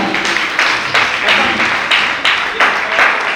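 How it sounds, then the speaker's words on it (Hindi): In a Digambar Jain temple in Janakpuri, Jaipur, a group claps loudly in rhythmic unison, steady synchronized beats landing about every two-thirds of a second. "एक बार के सम्मान में जोरदार ताली।"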